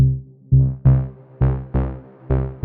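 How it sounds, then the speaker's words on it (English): Synthesizer notes from an 8-step sequence built by mixing a few oscillators in Bitwig, heard as separate plucked, buzzy tones in an uneven pulse, each with a sharp attack and short decay, clear and alone. "And I have one sequence here with 8 steps."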